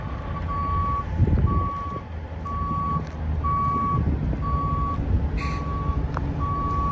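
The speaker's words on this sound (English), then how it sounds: "Gotta make sure I have that backup alarm" A Kenworth truck's backup alarm beeps steadily, about seven evenly spaced tones over the low rumble of the idling engine nearby, with no talking.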